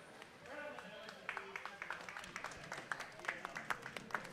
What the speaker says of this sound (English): Applause in the warm room for those coming off of our pepperoni event.